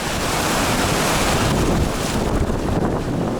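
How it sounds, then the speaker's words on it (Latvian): Ocean surf at Malibu Beach roars steadily and loudly, a dense wash of breaking waves mixed with buffeting wind noise on the microphone, with no voices. "Aigar, šitais jau ir Malibu Beach"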